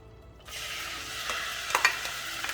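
Minced meat hits a thin layer of oil in a pot for samosa filling and starts sizzling steadily, with a few scraping stirs of a spoon cutting through the frying hiss.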